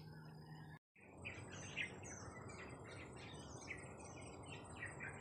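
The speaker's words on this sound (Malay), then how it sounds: "apabila dekat nak maghrib ni, burung-burung semua dah kembali ke sarang." Many birds chirp and call together near dusk as they return to their nests in an urban farm setting, a lively overlapping chorus over steady background noise after a brief dropout.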